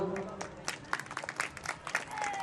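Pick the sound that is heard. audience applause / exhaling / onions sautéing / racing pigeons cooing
audience applause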